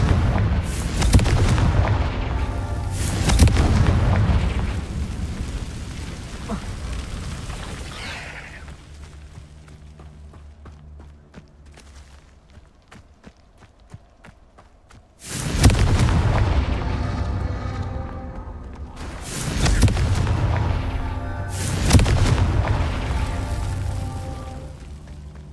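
Confringo blasting spell explosions in the video game Hogwarts Legacy: loud, booming blasts in two clusters, with a quieter stretch between them filled with lingering rumble and crackle.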